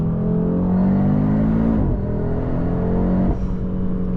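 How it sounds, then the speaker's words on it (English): An Audi RS3 engine drones with a strong sport-exhaust note, the pitch rising then dropping sharply at a gear change, twice in quick succession. "every time it shifts and then you go back off the gas pedal, it does that spooling up of the engine"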